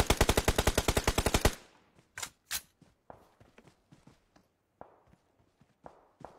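Gunfire in a video game team battle: a fast burst of machine-gun fire, then scattered single shots and footsteps trailing off, loud and close at first, fainter later.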